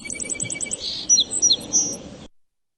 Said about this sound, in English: this is one of quite a few species of native sparrows